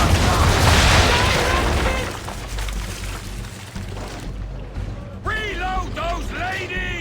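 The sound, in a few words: ship cannons firing a broadside in Assassin's Creed III video game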